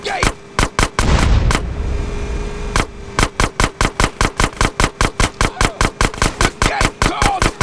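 A rapid, evenly spaced string of loud gunshots fires at a gate during a sewer tunnel mission in GTA San Andreas, with a dense heavier stretch early on and no speech.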